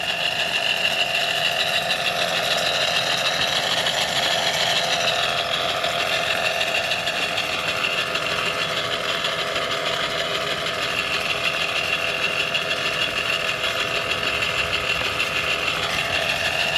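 A Wilesco D-405 model steam engine, steered by remote control, runs continuously with a fast, even mechanical chatter and hiss, steady and close, with no talking.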